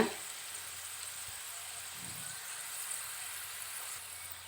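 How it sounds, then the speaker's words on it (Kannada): A steady, even hiss of field-bean (avarebele) mixture frying crisp in hot oil, continuous and moderately close with no talking. "ಇವಾಗ ನೋಡಿ, ಇದೆಲ್ಲ ಫ್ರೈ ಆಗಿದೆ, ತೆಗೆದ್ಬಿಡೋಣ."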